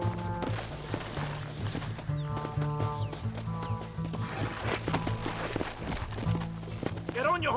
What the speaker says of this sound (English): Get on your horse!